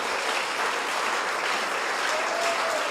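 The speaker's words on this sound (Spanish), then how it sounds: "Alguien que aplauda a Cristo" A church congregation claps for Christ during a sermon, a dense, even wash of applause that holds steady throughout, moderately loud with no distinct voices.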